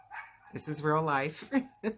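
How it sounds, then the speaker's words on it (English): A passing dog barks outside in a short bout of a few barks, heard close under someone speaking. "you might hear the dog barking that's going by"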